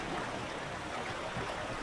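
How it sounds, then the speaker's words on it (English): A small creek flows steadily, giving a constant broad rushing wash of water, close by and moderately loud, with no voices. "We finally made it to the creek."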